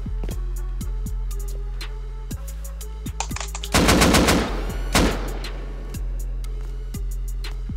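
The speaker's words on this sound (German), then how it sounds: "Ich hab geschossen." Gunfire in the video game Rust: repeated sharp shots in a steady rapid rhythm, with a denser burst of automatic fire in the middle, loud and close over a constant low hum.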